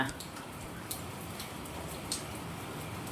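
Heavy rain pours steadily in Palitana during a storm with wind, a dense continuous wash of noise with a few sharper splashes, heard throughout without talk.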